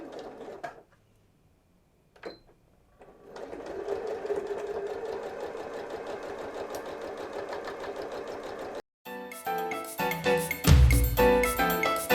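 A sewing machine stitches a bag's lining and outer fabric together, running in a steady fast whir with short pauses and restarts, close and fairly loud, with no talking.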